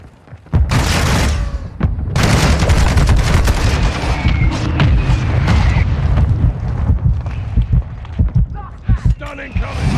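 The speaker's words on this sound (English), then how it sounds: "Hostile mortar strike incoming." Mortar strike explosions in the video game Modern Warfare II, a loud barrage of booming blasts and crackling gunfire with low rumbling impacts that keep rolling for several seconds.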